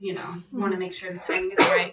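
A single abrupt sneeze bursts out near the end, right after a woman's conversational speech on a live sewing show.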